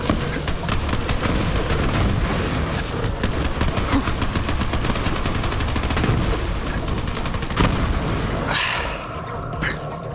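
Continuous rapid gunfire from Borderlands 3 during the Guns, Love, and Tentacles DLC, dense and loud throughout with bursts blending into a steady barrage, easing slightly near the end.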